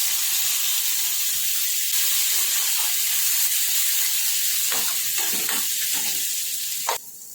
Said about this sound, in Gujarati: લીલા મરચાં એડ કરીશું